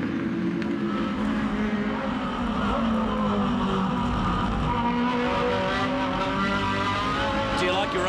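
Aussie Racing Cars screaming around the Eastern Creek circuit during a close race, a dense, continuous high-revving engine roar from several cars together, with a commentator talking over it.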